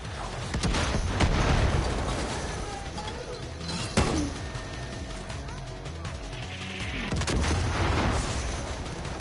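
Mortar rounds fire and explode in a Far Cry New Dawn game session, with deep, rumbling booms and blasts over a dense low roar, one sharper impact near the middle, and someone talking over the action.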